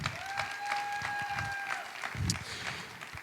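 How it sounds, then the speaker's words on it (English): A chapel audience at Sterling College claps for Paige, a moderate, somewhat uneven applause with a few louder claps, a sustained whistle-like tone and scattered low thumps mixed in. "Let's give Paige a round of applause."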